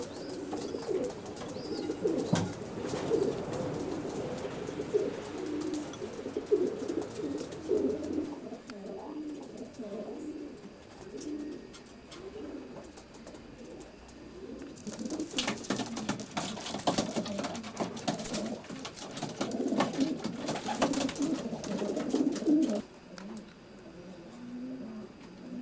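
Pairs of racing pigeons coo steadily inside the widowhood section of a loft while feeding, a dense overlapping chorus of soft throaty calls with rustling, close and continuous throughout.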